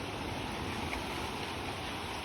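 A river rushing nearby, a steady broadband wash of flowing water heard continuously at moderate level, no voices.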